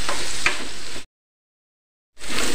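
Onions sauté in a pan for a Kerala-style prawn roast, a close, even sizzle that cuts to complete silence midway before the frying hiss returns.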